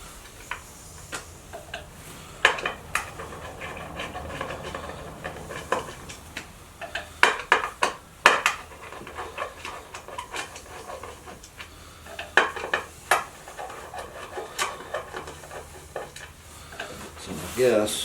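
Screws being removed with a screwdriver from a Craftsman adjustable rolling shop stool, scattered close metallic clicks and taps in irregular bursts, with small clanks between them.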